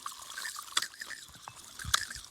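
Water dripping and trickling into a small cup from a strawberry watering system, faint and close, with irregular light drips and splashes that peak twice, no talk.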